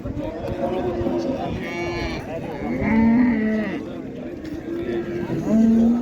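Cattle moo repeatedly at a livestock market in Qarshi, several drawn-out calls close by, overlapping with chatter and other animal bleats in the crowded background.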